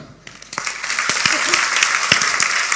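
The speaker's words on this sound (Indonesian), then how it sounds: "Tepuk tangan untuk Alkitab." Church audience breaking into applause during an Indonesian sermon on love: after a brief quiet start, a crowd's clapping swells in and continues densely, with a few sharp, close individual claps standing out.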